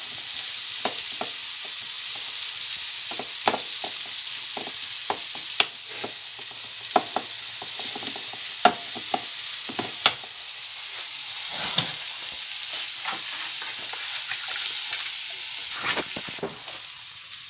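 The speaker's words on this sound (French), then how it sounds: "Vous mettez de l'huile d'olive, un bon filet d'huile d'olive dans la poêle. Vous mélangez bien le tout." A mixture sizzling in a generous drizzle of olive oil in a frying pan, a steady close hiss punctuated by repeated scraping stirs and small crackles, with no voices.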